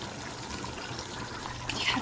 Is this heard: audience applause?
no